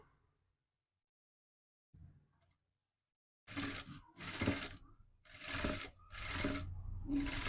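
A sewing machine stitches a line over a cloth border trimmed with potli buttons, running in four or five loud bursts with short pauses between, after a near-silent opening and one faint knock.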